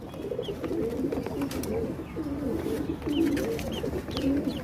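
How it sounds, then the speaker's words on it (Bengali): Caged quail call in a steady stream of soft, bubbling coos and chirps, close by, with faint chatter behind, on a small farm. "এখানে সব হচ্ছে কেনা কোয়েল পাখিগুলি।"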